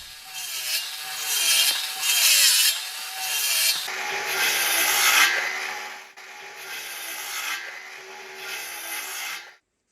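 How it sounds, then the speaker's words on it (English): A saw cuts notches into 2x4 boards for cabin stair treads, with rhythmic back-and-forth strokes rasping close and loud, the stroke rhythm shifting partway through before stopping abruptly. "I've always liked cutting notches."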